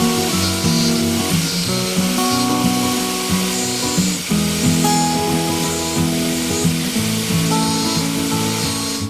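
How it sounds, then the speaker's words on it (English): A grinder cuts down the heads of brass pins on a Buck 110 knife, giving a loud, steady abrasive whir with tonal ringing that wavers as pressure changes, continuous throughout with no voice. "So the first thing to do is grind off the heads of all 6 of those brass pins"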